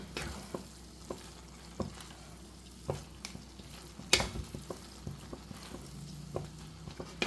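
Chicken kothu chapathi is stirred and mixed in a pan, a soft sizzle under repeated scraping and tapping strokes of the spatula at an uneven rhythm.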